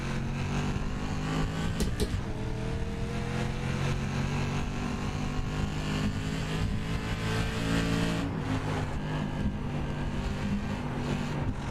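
Race car engine in the iRacing oval simulator, a dense, loud continuous drone with a sustained rising and falling tone as the car approaches, with a short burst of harsher noise early on and no talk.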